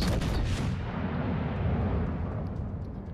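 Naval guns firing in the World of Warships: Legends video game, a loud rolling boom with a dense rumble that decays slowly over a few seconds.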